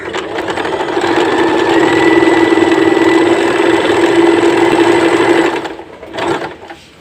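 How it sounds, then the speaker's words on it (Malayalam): A sewing machine runs at steady speed while stitching fabric, producing a loud, even mechanical hum and whir for about six seconds before it stops and gives a brief final rattle. "അപ്പോൾ ഞാനിപ്പോൾ ജസ്റ്റ് സ്റ്റിച്ച് ചെയ്ത് കാണിക്കാം"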